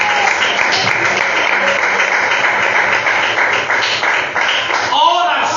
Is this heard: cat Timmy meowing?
no